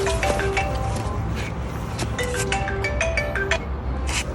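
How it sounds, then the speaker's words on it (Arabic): A mobile phone ringtone in an acted Egyptian comedy scene plays as a steady melodic ring with tonal, repeating notes that run through the whole moment, close and fairly loud, with no talk over it. "التليفون بيرن"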